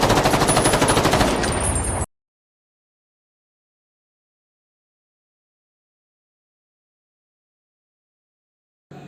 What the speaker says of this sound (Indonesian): Mobil polisi lain mengejar dan terjadilah baku tembak.